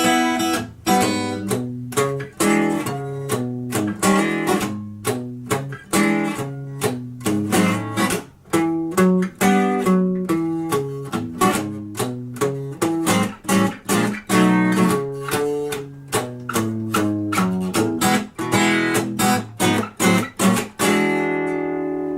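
A guitar piece played on acoustic guitar, a lively stream of crisp plucked notes and bass-string boogie patterns with a driving rhythm, close and clear, with no voices.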